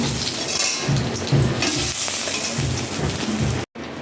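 Bay leaf, dried chilli, cumin and whole garam masala crackle in hot oil, a loud, rough sizzle with low rumbling bursts of stirring before a sudden brief cut near the end.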